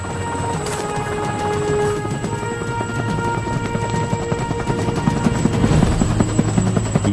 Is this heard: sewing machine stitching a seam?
no